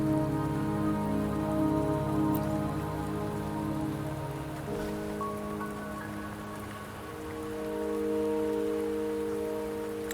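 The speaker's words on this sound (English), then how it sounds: "Don't worry, the rain won't last much longer." Rain falls steadily in the Wuthering Waves video game, pattering continuously at moderate volume under sustained musical tones, with no talking.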